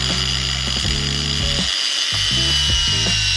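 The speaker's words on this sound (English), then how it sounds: "Then you can take your angle grinder. Chop it?" An angle grinder cutting braided fuel hose for custom AN fuel lines, a loud, close, continuous whining drone that dips and rises in pitch as the disc bites, with a brief gap near the middle.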